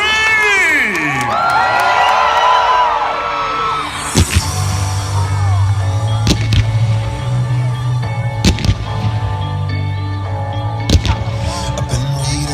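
A large crowd screams at the Lotterywest Fireworks Spectacular at the Perth Show, a dense wall of high shrieking voices for the first few seconds, then sharp booming bangs and pops ring out over a steady low drone.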